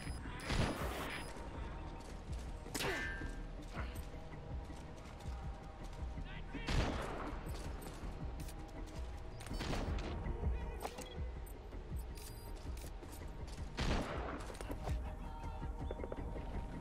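Gunfire in Metal Gear Solid V: The Phantom Pain during a mission to secure film canisters, with a few loud broadband shots standing out above a constant busy bed of battle noise and voices.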